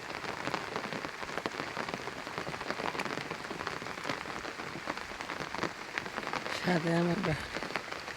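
Heavy rain pours steadily on surfaces in a Bangladeshi village during a storm, a dense continuous hiss throughout, with someone speaking briefly near the end.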